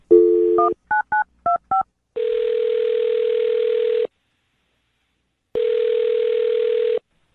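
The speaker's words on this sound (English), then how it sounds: "I'm dialing his phone number right now" A quick series of touch-tone beeps as a number is keyed in, followed by two long, steady ringback tones separated by silence.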